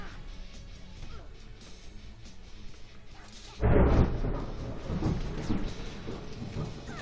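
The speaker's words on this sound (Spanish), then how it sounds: "No sé si escucharon eso, pero fue un trueno." Sudden loud thunder crack and rumble during rain, breaking in midway over a quiet, steady background and rolling on to the end.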